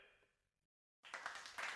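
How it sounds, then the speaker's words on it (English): A small crowd at the Tynwald Day ceremony on the Isle of Man breaks into hesitant, scattered clapping after a short silence, distant and fairly faint. "you might be able to hear a little bit of hesitant clapping there"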